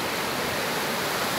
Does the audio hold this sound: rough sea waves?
yes